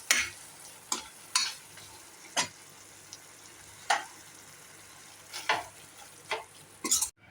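Curry leaves drop into a pan of mushroom pepper fry, giving a quiet sizzle broken by sharp scraping strokes and crackling bursts as the mix is stirred, close and intermittent, with no speech.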